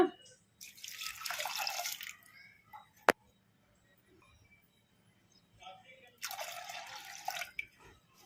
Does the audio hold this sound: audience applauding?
no